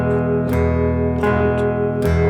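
Cigar box guitar strummed in chords, ringing sustained tones with three distinct strokes spaced under a second apart, the last an upstroke, close and loud with no talking.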